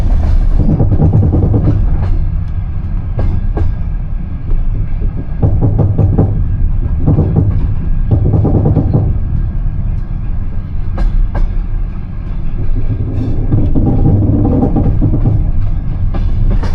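A passenger train rolls into the Ungheni border station, loud rumbling and clattering wagons with rhythmic clickety-clack bursts and knocks over a steady low drone.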